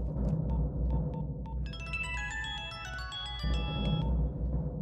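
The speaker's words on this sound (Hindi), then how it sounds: "हाँ, घंटी जा रही है" A phone rings during a call in a dubbed Hindi movie scene: a bright, melodic ringtone plays for about two seconds over a low background hum, then stops.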